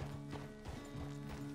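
Horse hooves clip-clop at a steady walking rhythm in Red Dead Redemption 2, with repeated soft thuds close by under a constant low tonal hum of game music.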